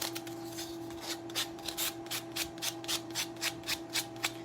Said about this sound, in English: let me sand down some of the corners